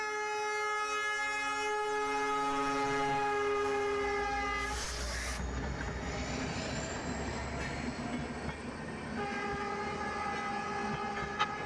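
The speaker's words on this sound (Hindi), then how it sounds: "Sitapur city junction railway station की दिशा से ये ट्रेन वापस आ रही है" A CRS special inspection train passes on a newly doubled track near Sitapur City Junction, with long sustained horn blasts, rumbling wheels and rail noise, and more horn toward the end, heard from the trackside.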